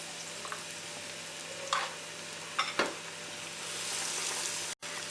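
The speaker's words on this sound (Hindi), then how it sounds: "चम्मच से हम एक एक बोंडा तेल में डालेंगे" Potato bondas coated in batter fry in hot oil on a low flame, giving a steady, fine sizzle with a few louder crackles and a brief spoon stir.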